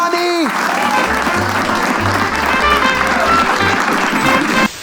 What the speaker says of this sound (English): With a big round of applause, let's welcome on stage